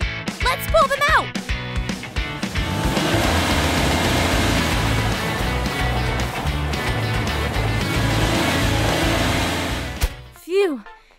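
Cartoon toy vehicles rev their engines hard while winching stuck vehicles out of mud. A dense, loud engine roar fills about nine seconds, with short bits of speech before and after.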